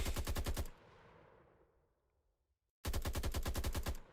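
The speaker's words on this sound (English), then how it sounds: "I will shoot a little bit from this." Rapid automatic gunfire from a COD Zombies-style Unreal Engine 5 video game comes in two loud, close bursts of evenly spaced shots. The first burst fades into a decaying echo, then silence, before the second begins.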